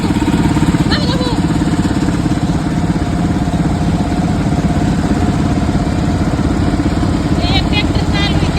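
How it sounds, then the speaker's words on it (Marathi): A tractor engine runs beside a farm well with a loud, steady idling drone that never lets up, and brief high chirping sounds appear near the start and again near the end. "एक ट्रॅक्टर चालू आहे, ते एक ट्रॅक्टर चालू आहे."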